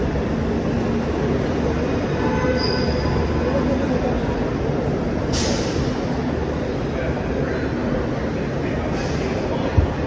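A Disneyland tram rumbles past close by, a steady broadband rolling drone lasting throughout with faint squeaks, while people talk over it.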